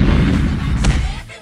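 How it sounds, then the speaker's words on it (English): Lego Batman tank missiles firing as a loud, dense burst of booming blasts with heavy low rumble, brief and close. "Activate tank missiles."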